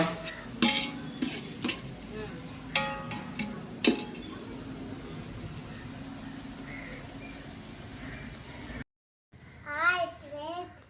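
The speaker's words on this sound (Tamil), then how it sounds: "இப்போ தக்காளியும் போட்டு நல்லா ரோஸ்ட்டாக ஃப்ரை ஃப்ரை பண்ணிக்கலாம்" Onions and tomatoes fry in a pan for chicken biryani, with a steady hiss broken by sharp clinks of a stirring spoon. After a brief silence, a voice speaks near the end.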